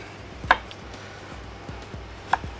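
A knife cuts red bell pepper on a board, two sharp chops about two seconds apart over quiet background, close and without talk.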